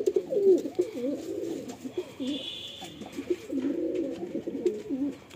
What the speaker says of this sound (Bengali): এই এক জোড়া ফুলসিরা পায়রা